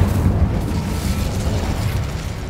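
A fire spell cast in Hogwarts Legacy gives a continuous low, rumbling burst, like a fiery roar, steady and fairly loud for its whole length with no talk.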